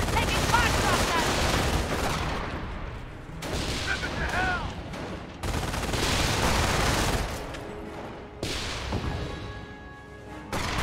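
Dense gunfire and explosions from a Company of Heroes battle on the Causeway mission, with rolling bursts and booms layered under voiced callouts, thick and continuous across the whole stretch.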